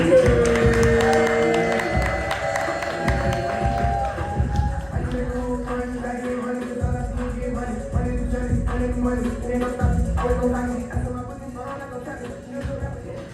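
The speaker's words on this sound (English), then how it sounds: "Everybody make some noise right now. Start clapping right now for Darius." An event audience breaks into cheering and clapping as a speaker named Darius is welcomed to the stage. Loud music with a pounding beat plays over the crowd, and the applause carries on under it for several seconds.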